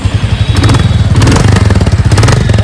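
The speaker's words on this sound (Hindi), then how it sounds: "एक बार बाइक आपको मैं स्टार्ट करके इसकी आवाज़ सुना देता हूँ दोस्तों।" A Royal Enfield Classic 350 motorcycle engine runs loud and close with a rapid, chugging idle and a few revs rising above the steady beat.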